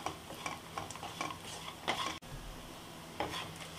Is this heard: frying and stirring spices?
yes